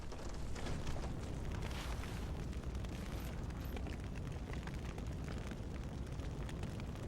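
An explosion in the MS Saga Gundam role-playing video game, a sustained, dense rumbling roar that fills the whole stretch at a steady level without letting up.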